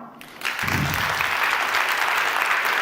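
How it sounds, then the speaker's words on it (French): A theatre audience at a season-presentation evening starts clapping after a quiet moment, rising quickly into a loud, sustained, dense applause that continues steadily to the end. "applaudissez maintenant."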